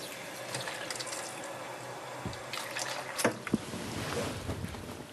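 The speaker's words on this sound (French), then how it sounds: "On vide le sachet dans un bol et on remplit d'eau froide." Cold water pours into a bowl holding the emptied contents of a packet of dried mushrooms, making a soft running and splashing sound that is fairly quiet and has no talk over it.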